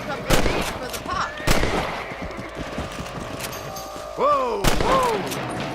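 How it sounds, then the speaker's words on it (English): Gunshots fired at rabbits in the Western game Red Dead Redemption: three loud, sharp cracks spread over several seconds, with a man exclaiming between shots and a horse-like whinny near the end. "Nice shooting."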